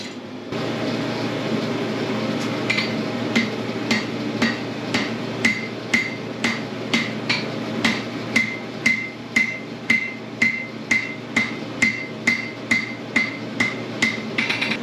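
Hammer forge welding the scarf joint of a hand-forged iron ring for a Victorian workshop jib crane: a steady, evenly spaced series of ringing metallic blows, close and loud, against a constant roaring forge background.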